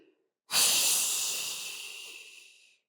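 During a mat Pilates workout, a single long breath is heard close up: a sudden airy, hissing exhale that starts sharply and slowly fades over about two seconds.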